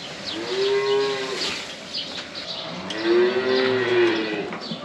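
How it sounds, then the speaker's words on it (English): Cattle mooing twice, long drawn-out lows close by, separated by a short pause with faint outdoor ambience. "Dad has been working on the cattle"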